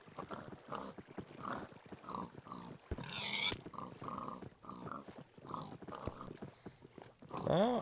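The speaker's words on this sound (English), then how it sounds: "Now I have pigs everywhere." Pigs oinking in Minecraft, a crowd of short blocky grunts repeating every half second or so at close range, with a brief squeal and a higher sliding squeal near the end, no talking.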